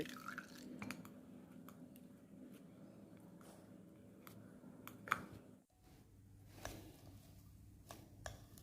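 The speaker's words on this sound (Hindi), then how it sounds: "यहाँ पर इसको आपने अच्छे से निचोड़ लेना है, इस तरह से चम्मच की मदद से प्रेस करके।" Beetroot pulp pressed with a spoon so the juice drips through, faint close dripping and soft clicks over a quiet hum, with a brief scrape partway through.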